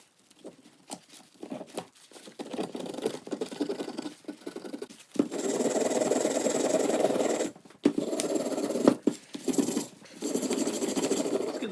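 Gunk being scraped off a Range Rover L322 rear wiper motor, a series of dry, rasping strokes that start as short scratches and build into longer, louder continuous scrapes with brief pauses between them.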